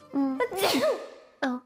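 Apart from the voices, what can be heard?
sneeze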